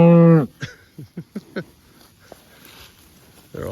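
Cattle in a dense grazing pasture on mid-November fescue in mid-Missouri give a loud, close moo, then hooves and soft thumps step about before a second moo begins; a voice speaks faintly in the background.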